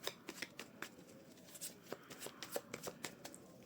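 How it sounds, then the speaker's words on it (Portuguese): Tarot cards are shuffled quietly by hand at close range, a quick run of soft papery flicks and taps in an uneven rhythm, with no voice over them. "Embaralhar muito bem, porque eu sou dessas."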